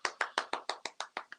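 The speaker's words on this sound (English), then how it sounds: "Where's the claps? Clap, claps." Nine sharp hand claps sound in an even, quick rhythm, close and fairly loud with no voices over them.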